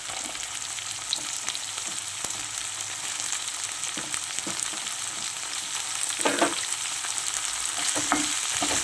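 Carrots, beans and other vegetables fry in a pan for a coconut milk pulao, giving a steady, close sizzle with occasional scraping stirs and a few louder crackles toward the end.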